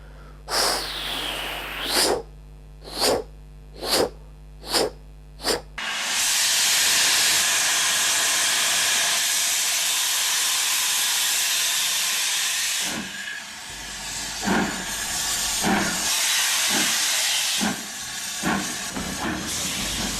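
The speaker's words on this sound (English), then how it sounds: "as with a steam train, it's sort of more like a puffing noise" Rhythmic steam locomotive chuffs, about six sharp puffs, then a long loud hiss of venting steam followed by more irregular chuffing and hissing.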